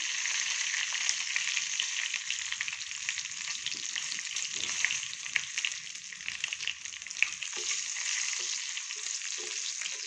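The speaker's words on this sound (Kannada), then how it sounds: "ಮೆಣಸಿನ್ಕಾಯಿ, ಬೆಳ್ಳುಳ್ಳಿ, ಕರಿಬೇವಿನ ಸೊಪ್ಪು ಹಾಕ್ತಾಯಿದ್ದೀನಿ" Green chillies, garlic and curry leaves fry in oil with a continuous bright sizzle, close and fairly quiet, with faint crackles and small stirring scrapes underneath and no talking.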